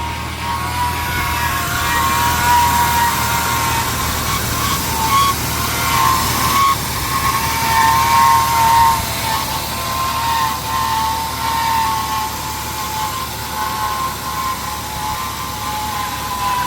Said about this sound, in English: Nope, squeal's still there.